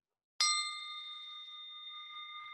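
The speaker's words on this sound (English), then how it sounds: "when you hear this bell sound" A meditation bell is struck once, giving a sharp ding that rings on as a clear, sustained tone and fades slowly. It sounds alone in an otherwise quiet room.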